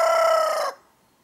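A rooster crows loudly and close in a backyard chicken run, a single sustained call that cuts off abruptly, followed by near silence.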